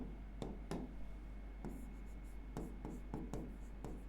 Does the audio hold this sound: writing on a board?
yes